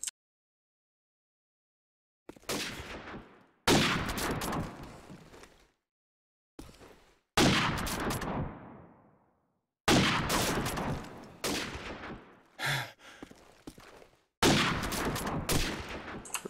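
Loud bursts of automatic gunfire fill a 1v1 match on the Killhouse map of a shooter video game. Several separate volleys are broken by short silences, and a few single shots stand between them.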